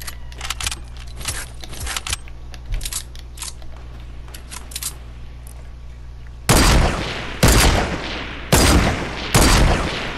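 Gunfire in a 50v50 online shooter match: scattered light clicks and distant pops at first, then four loud, evenly spaced close shots near the end, no talking.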